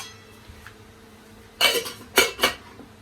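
A metal pot lid is lifted and set down in a home kitchen while eggplant and peppers are prepared for a suhoor meal, giving two or three sharp, close clanks and rattles after a quiet moment, with no talking.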